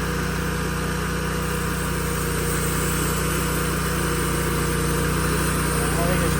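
An Oscar 336 portable sawmill engine runs up to speed with a steady, loud, constant drone that stays unbroken throughout.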